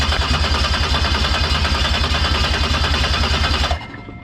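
A Toyota 1JZ-GTE VVTi engine swapped into a Scion FR-S cranks over on the starter for a compression test, a steady rapid chugging rhythm held loud and close for several seconds before it cuts off.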